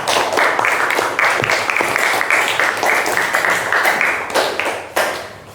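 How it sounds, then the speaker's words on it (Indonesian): Classroom of students applauding a student group after its presentation: lively, dense clapping from many hands nearby, continuing for several seconds before tapering off at the end. "tepuk tangan untuk kelompok 3"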